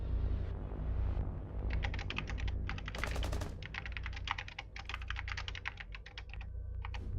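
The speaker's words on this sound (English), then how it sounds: "Very loud keyboard." Computer keyboard typing close to the microphone during a Rainbow Six Siege match broadcast, coming in rapid bursts of clacking keystrokes with short pauses, over a low steady hum and no talking.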